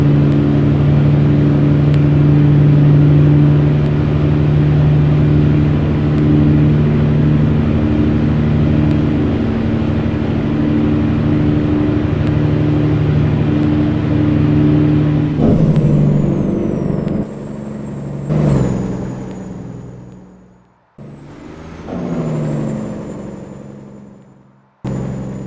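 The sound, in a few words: truck engine driving in American Truck Simulator video game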